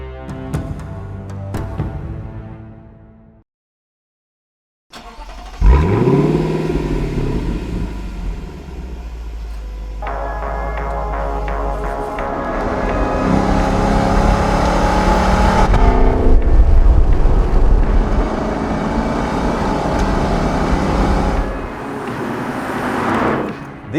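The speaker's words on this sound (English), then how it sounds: "This latest flagship sports coupe from Lexus is powered by a 5-litre naturally aspirated V8 paired to a 10-speed automatic gearbox" A Lexus LC 500 coupe's 5.0-litre naturally aspirated V8 with 10-speed automatic fires up after a brief silence, settles into a deep idle, then revs and accelerates loudly with a rising roar close by.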